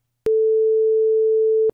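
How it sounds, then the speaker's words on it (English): A single pure sine-wave test tone from an audio file holds at one steady pitch for about a second and a half, loud and clean, with abrupt clicks at start and stop. "They're just sine waves for like 4 minutes long."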